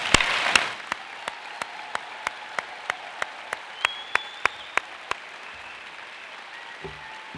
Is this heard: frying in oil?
no